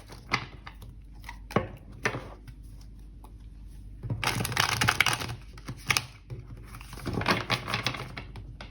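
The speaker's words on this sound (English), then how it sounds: "That was not a good shuffle." Tarot cards being shuffled by hand: short papery riffles and taps, then two longer bursts of rapid flapping, close and fairly loud.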